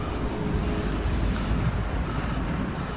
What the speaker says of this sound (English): the wind is blasting